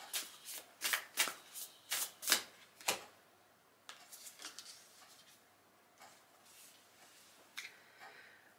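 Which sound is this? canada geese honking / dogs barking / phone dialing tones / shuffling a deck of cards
shuffling a deck of cards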